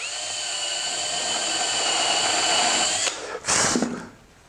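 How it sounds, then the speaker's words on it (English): A handheld power drill bores a hole in a wood shelf piece, giving a steady, loud, high whine for about three seconds before the motor cuts out with a brief rising burst and then quiet. "So I'll drill another one over here."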